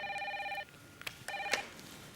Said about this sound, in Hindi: ये कोई फ़ोन आ रहा है क्लाइंट का